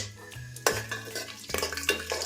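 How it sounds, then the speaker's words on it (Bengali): Whole cardamom, cloves and cinnamon stirred into hot oil in a pan for basanti pulao, with metal scraping and clinking from the spoon over a low steady sizzle, two sharper clatters standing out. "দিয়ে দেব এলাচ, লবঙ্গ আর দারচিনি।"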